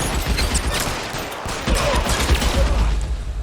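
Gunfire in L.A. Noire, a burst of sharp shots fired in fast, irregular succession over a noisy background, loud and close throughout.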